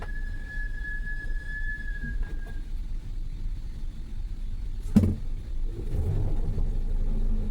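Steady low rumble of a Studebaker car cruising in overdrive third gear at about 2,000 RPM and 70 mph, heard from inside the cabin, with a thin whine early on and a brief thump midway.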